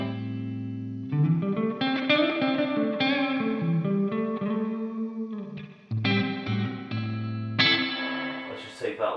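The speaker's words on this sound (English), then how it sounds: "I'm just going to go into kind of like a plate kind of reverb." An electric guitar plays through an amp with a plate-style reverb and a chorus-like shimmer. Sustained chords and short phrases ring out and trail off into a washy tail.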